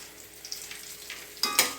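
Village-style fish curry with a small raw mango simmers in a pot over a medium flame, giving a soft, steady sizzle and bubbling, with a couple of sharper clinks or stirring sounds near the end.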